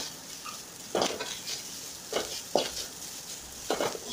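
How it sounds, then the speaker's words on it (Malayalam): Grated coconut and lightly softened onions are stirred in a frying pan, giving a few separate scraping, sizzling strokes spaced about a second apart over a faint background hiss, with no talking. "ചെറുതായി ഒന്ന് ഇളക്കി കൊടുക്കാം."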